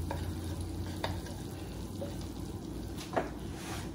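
Ground meat for a New York style chopped cheese fries in a pan, a low, steady sizzle broken by a few soft scrapes and stirring knocks, with no one speaking.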